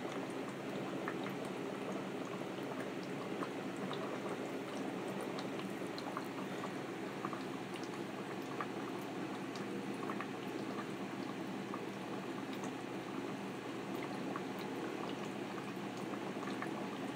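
Water bubbles steadily in a hermit crab tank, a continuous fizzing, gurgling burble that holds at an even level throughout, close by and uninterrupted.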